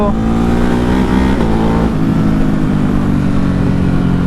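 A Ducati Hypermotard motorcycle engine revs loudly up close, its steady droning tone climbing and then settling into a sustained roar, with no speech.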